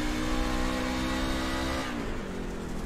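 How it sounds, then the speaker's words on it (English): A race car engine idles and hums steadily in iRacing at Bristol dirt, its pitch holding level and then dropping slightly near the end, heard close and continuous. "I already got the engine on."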